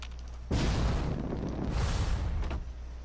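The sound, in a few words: massive explosion in video game Fallout 4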